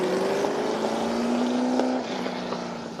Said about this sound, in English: the first of those F5000 cars is, of course, Seb Coppola